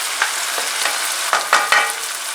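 Pork chops fry in a hot pan with a steady, close sizzle, punctuated by a few brief sharper crackles and pops near the end; no one speaks.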